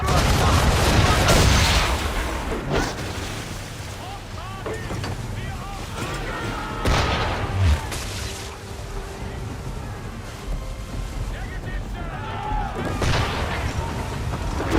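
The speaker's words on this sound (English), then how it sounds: "Use the swivels on him, Captain! Fire!" Ship swivel guns fire during a naval battle in Assassin's Creed III, with booming shots over wind and creaking sailing-ship ambience as voices shout in the background.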